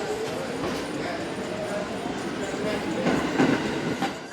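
Steady rumble of a New York City subway train rolling through, with rising clatter and screech toward the end, loud and enveloping.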